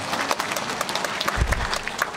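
An audience at an outdoor peace-and-unification concert in Dalseo-gu claps steadily, a crisp, close round of applause with a few low thumps, and no talk is heard over it.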